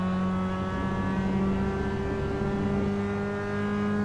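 Race car engine in the iRacing sim at Interlagos, a steady loud drone holding constant harmonic pitch throughout under braking and corner exit, close-up in-car perspective with no talking.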